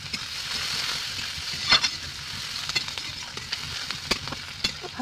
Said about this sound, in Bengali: হালকা করে ভেজে নেব পেঁয়াজটা।